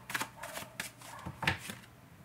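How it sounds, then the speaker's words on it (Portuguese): Tarot cards handled and shuffled at close range, a few quick riffling flutters and soft slaps spaced across a couple of seconds, with no talking. "Tá mostrando as cartas."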